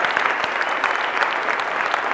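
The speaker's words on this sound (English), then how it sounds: "Let's give a round of applause for the people that organized this whole event" An audience at a college convocation claps in steady, dense applause that holds at an even, fairly loud level throughout, with no voices above it.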